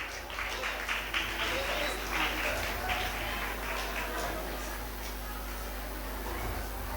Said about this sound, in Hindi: आप तालियों से उनका इस्तकबाल करेंगे।